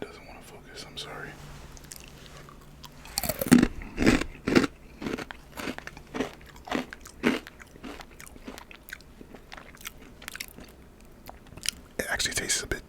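Crunchy bites and close chewing of Vitner's Hot Crunchy Kurls, cheesy corn curls, recorded up close, with repeated sharp crunches in quick succession, soft whispery mouth sounds and quieter breaks between bites.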